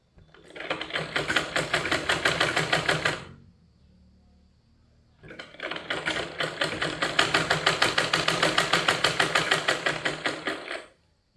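Sewing machine stitching a cloth frock, a close, loud rapid rhythmic clatter in two long runs separated by a quiet pause of about two seconds, with no talking.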